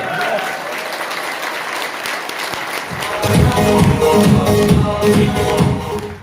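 A crowd at a direct-selling meeting bursts into loud, dense clapping partway through, following a stretch of quieter room noise, and keeps applauding steadily to the end.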